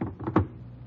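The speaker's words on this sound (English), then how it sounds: "Open the icebox." An icebox door is opened during a 1952 NBC radio drama: one short, dull click-thunk close by, with a faint muffled rustle just before it and quiet room tone after.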